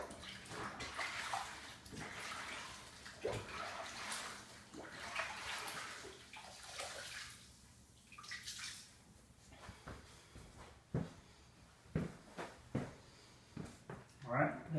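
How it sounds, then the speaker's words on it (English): Water runs and splashes in a bathroom sink as hands are washed and a sponge is rinsed during a tile and shower caulking repair, with sloshing and later scattered clunks and drips, speech occasionally over it. "I'm going to go wash my hands and wash the sponge"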